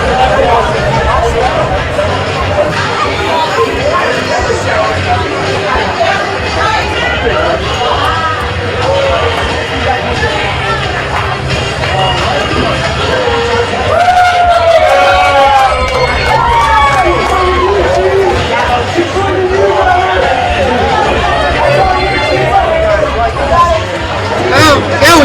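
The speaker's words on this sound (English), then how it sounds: "little bit of the crowd getting into it" A crowd at an independent professional wrestling show cheers and hollers in a steady, roomy roar, with shouts and excited voices rising midway, while a commentator talks over it.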